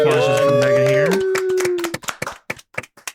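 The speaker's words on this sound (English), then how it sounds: "Let's give a round of applause for Meghan here." Voices speak over a sustained tone, then a few people clap in scattered, uneven bursts nearby, applauding a podcast guest.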